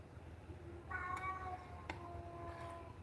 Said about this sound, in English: it blows me away how much he meows